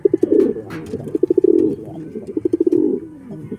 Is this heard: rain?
no